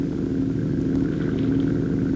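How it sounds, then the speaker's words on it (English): Ground effect flying scooter riding on an air cushion, powered by a small 7-horsepower Nelson engine drawing in air through a fan, a steady droning engine hum with a buzzy tone, continuous and fairly loud. "Ground effect machines, such as this flying scooter, operate close to the ground, supported by a cushion of air."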